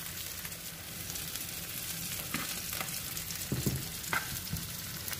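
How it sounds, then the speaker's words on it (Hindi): Beaten egg cooking over softened onions on low heat gives a steady close sizzle with a few soft spatula knocks and bumps partway through, no talk over it. "प्याज हमारा नरम हो गया, इसके ऊपर हम फेंटा हुआ अंडा डाल दें"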